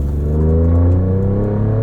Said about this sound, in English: The engine is exciting, fun, it sounds nice.